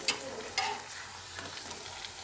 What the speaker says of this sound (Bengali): ফ্রিজের থেকে বার করে সঙ্গে সঙ্গে ভাজা হয়ে যাবে